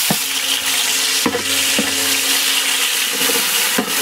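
Onions and green chillies fry in a pot for a large batch of mutton biryani, a steady close sizzle with a few sharp stirring knocks, no voices.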